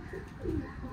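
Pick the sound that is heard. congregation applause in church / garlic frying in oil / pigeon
pigeon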